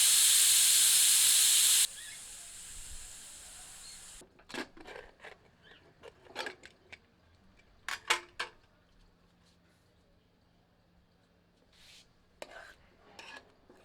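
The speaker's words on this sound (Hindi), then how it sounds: "प्रेशर कुकर को भाप मुक्त कर देते हैं।" A loud rushing hiss of steam escapes from a pressure cooker of moong dal khichdi for about two seconds, then cuts off, leaving scattered clinks of metal utensils and faint kitchen clatter.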